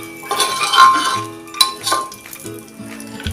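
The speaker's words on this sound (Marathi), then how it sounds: "आता सगळे ड्रायफ्रूट्स आपले परतून झालेले आहेत" Dry fruits with raisins and black raisins are being roasted in ghee in a pan. A ladle clinks and scrapes against the metal over a faint sizzle, in uneven bursts.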